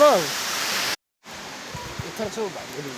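A waterfall pours with a steady broad rush of flowing water, briefly cut off, then resuming somewhat softer under scattered voices and chatter nearby.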